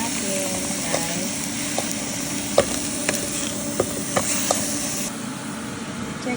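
Ground beef frying in a hot pan for Filipino-style spaghetti, a steady close sizzle broken by occasional sharp scrapes and clicks of a utensil stirring the meat.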